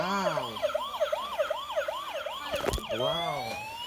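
A toy police car plays an electronic siren in rapid repeating wails, close and loud, with a brief clatter partway through.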